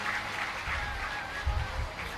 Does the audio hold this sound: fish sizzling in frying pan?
no